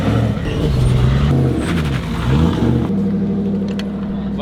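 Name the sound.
Toyota GT86 drift car engine starting and revving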